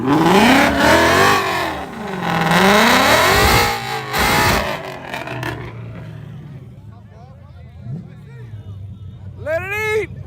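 A RIPP supercharged V6 Dodge Challenger revs hard and accelerates on a track, a loud, rising engine roar with supercharger whine that peaks and then fades into background chatter and a short burst of later engine noise.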